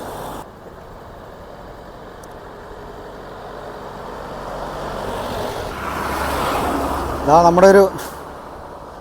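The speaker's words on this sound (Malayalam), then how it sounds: "ആനവണ്ടി ഇതാ പോകുന്നത്." A KSRTC bus passes on a rural road, its engine and tyre noise building gradually to a loud peak near the end, with someone talking over it.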